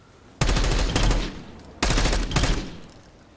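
Two rapid bursts of automatic gunfire at training targets in the shooter game Call of Duty Black Ops 6, each a close, loud rattle of several quick shots lasting about a second, separated by a short pause.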